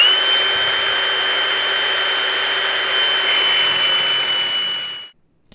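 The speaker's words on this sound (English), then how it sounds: "I made a series of smaller cuts with the angle grinder, going around, making sure it was on the marks" Angle grinder cutting through a Porsche 944 steel suspension strut, a steady loud high-pitched whine with grinding hiss running continuously for about five seconds before cutting off abruptly.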